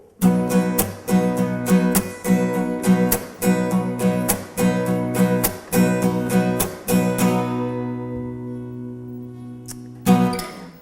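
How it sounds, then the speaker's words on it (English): Rhythmic guitar strumming with sharp scraped strokes and percussive muted hits between ringing chords, loud and close, ending on a sustained chord. "So you've got the scrape, you've got the mute."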